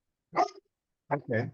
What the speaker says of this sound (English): That's a Labrador out there